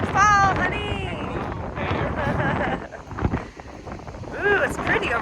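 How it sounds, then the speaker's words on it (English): Wind on Dominica buffets the microphone with a steady rushing roar while people talk and exclaim over it outdoors. "It's really windy."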